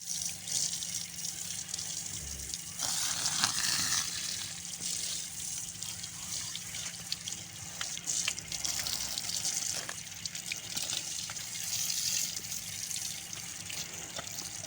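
Water gushes and splashes steadily while calves are bathed in hot summer weather, a continuous close rush with brief drips and knocks and no talking.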